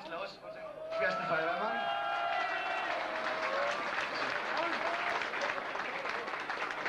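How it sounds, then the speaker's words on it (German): Applause from a crowd at a 1991 village fire brigade festival rises after a second and continues steadily, mixed with overlapping voices and a whistle-like tone early on. "bitte Applaus"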